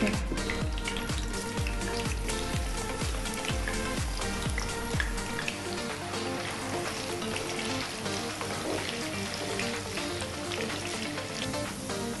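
Potatoes sizzle and crackle in hot oil, a dense steady frying hiss with scattered pops, moderately loud throughout.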